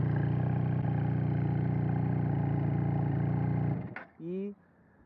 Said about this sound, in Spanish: Este escape particularmente lo que tiene es que en baja se escucha muy tranqui, pero cuando le das vuelta